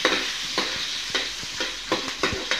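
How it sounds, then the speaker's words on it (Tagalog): Garlic and onions sauté in a pan for chopsuey, a soft steady sizzle broken by regular scraping strokes of a stirring spoon. "sauteing garlic and onions"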